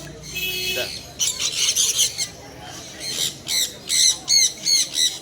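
Pet conure parrots, crimson-bellied and pineapple, squawk at a bird market in a run of sharp, loud, repeated shrieks that follow a short stretch of background talk.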